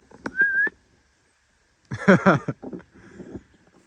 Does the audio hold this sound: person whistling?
yes